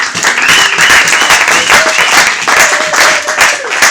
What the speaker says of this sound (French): Acclamons le Seigneur pour lui